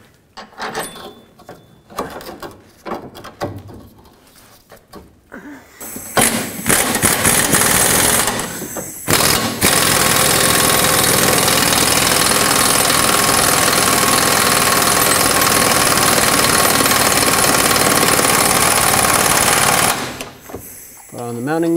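Loud, sustained rattling hammering from a power tool driving a mounting nut onto the rear toe arm of a 2005-2010 Pontiac G6, running about ten seconds after scattered clanks and brief tool bursts.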